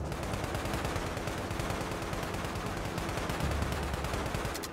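Dense, continuous rapid gunfire in a video game shootout with police, steady bursts and explosions, loud and unbroken throughout, no talking.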